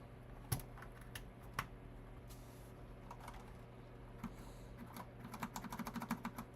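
Quiet, irregular keystrokes come from a computer keyboard during a coding session. Scattered single taps give way to a quicker burst of typing near the end, with no talking.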